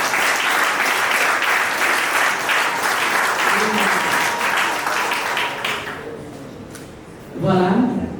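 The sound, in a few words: applause at a civil wedding ceremony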